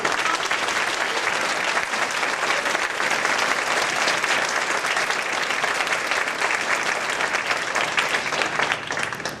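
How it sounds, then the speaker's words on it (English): A large audience at a teacher of the year banquet claps continuously, a dense, even roar of applause that holds steady throughout without letting up. "let's give them a round of applause."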